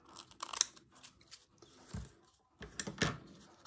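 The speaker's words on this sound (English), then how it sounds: "Let's snip a little bit of this off." Scissors snip through fabric during a slow-stitch sewing project, a few crisp close cuts in short bursts separated by brief pauses, quiet and alone.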